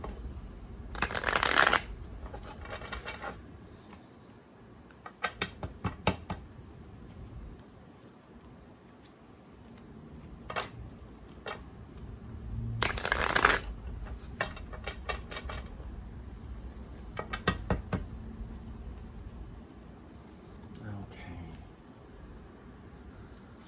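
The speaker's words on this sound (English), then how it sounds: "I'm just gonna shuffle and let cards fall out as" Tarot cards being shuffled in repeated riffling bursts, crisp and close, separated by quiet pauses and small handling noises.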